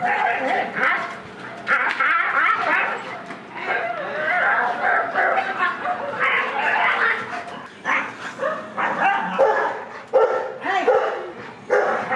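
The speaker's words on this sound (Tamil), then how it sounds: "திருநாயை பிட்புல் ரக நாய் கடித்து குதறும் வீடியோ காட்சி வெளியாகி அதிர்ச்சி" A pit bull barks and yelps in the footage of a news report, with agitated barking heard amid shouting voices and commotion throughout.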